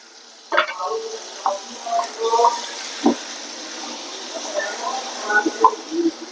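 Water being poured into spiced beef masala cooking in a pot, a wet splashing and sizzling with scattered stirring clatters, moderately close, with a voice speaking intermittently over it.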